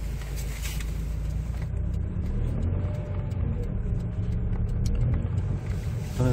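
A 2003 Kia Sorento with a diesel particulate filter fitted, its engine held steadily under throttle while driving, giving a continuous low droning rumble inside the cabin with no talk.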